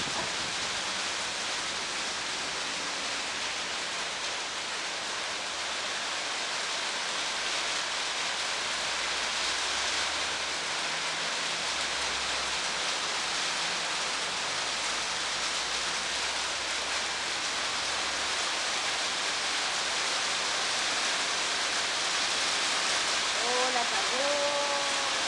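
Heavy rain with large drops pours down steadily in a thick, even hiss for the whole stretch, with a brief faint voice near the end.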